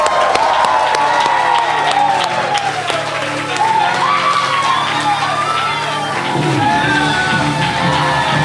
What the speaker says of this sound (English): give a nice big round of applause for David Leventhal